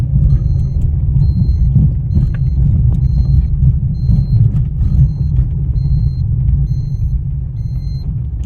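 A car creeping slowly in first gear while a learner practises, giving a steady low engine rumble with regular faint beeps repeating throughout.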